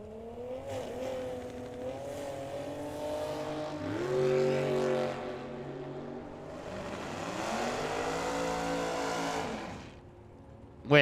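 A dragster out of Flagstaff, Arizona, revs and accelerates hard at the drag strip, its engine note climbing in long sweeping runs, loud and close, with a sharp burst at the very end.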